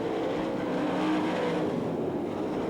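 Sprint race cars roaring around a dirt track at the Knoxville Nationals, a dense, steady wall of engine noise held at full volume throughout, with no break or voice.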